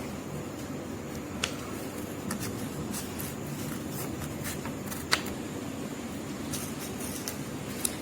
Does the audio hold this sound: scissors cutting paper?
yes